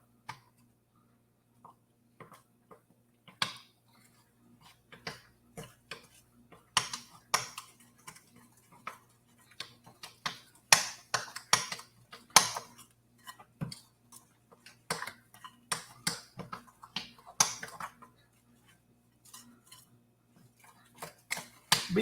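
Blueberry muffin batter being mixed in a bowl, a utensil clinking and scraping against the sides in quick irregular bursts over a steady low hum, close by, with no talking.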